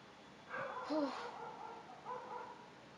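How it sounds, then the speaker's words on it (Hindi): Faint, distant dog barks and yips arrive in two short bursts over a quiet background. "सुन रहे हो ना गाइस किस कदर ये भौंक रहे हैं"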